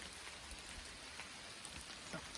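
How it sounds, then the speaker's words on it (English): Rain falls outdoors on a hiking trail in the Ozark Highlands, a faint steady hiss scattered with soft individual drops pattering on nearby surfaces. "I'm gonna wait out this rain for a while and see if it clears up"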